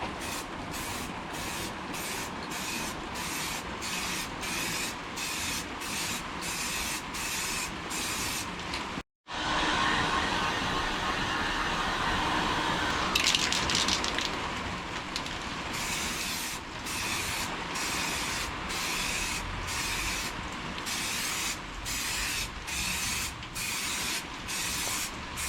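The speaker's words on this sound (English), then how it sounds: "so that's what you can do. Let's spray it." An aerosol can sprays coating over an engine part, giving long continuous hissing bursts separated by brief pulses and one short pause, loud and close throughout.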